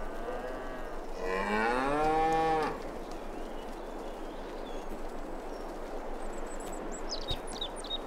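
A cow in Farming Simulator 22 lets out a single long, loud moo over steady ambient farm noise, followed by faint bird chirps near the end.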